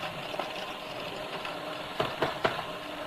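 Coriander stalks whirring in a Magimix food processor, a steady motor drone with a few rattling knocks as the pieces are chopped, close and moderately loud.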